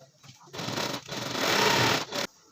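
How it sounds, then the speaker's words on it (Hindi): A sewing machine runs along the side seam of a pair of trousers in two close, loud bursts of steady whirring, with a brief pause between them and quiet handling before and after. "ये जो हमारा खुली हुई साइड थी इस पर हम सिलाई लगाएंगे"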